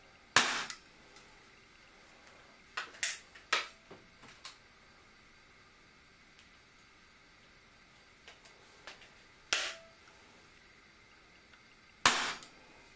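A Webley Nemesis air pistol fires pellets outdoors, giving sharp, dry cracks with short gaps between them. Smaller clicks from cocking and loading come between the louder shots, and the scene is otherwise quiet.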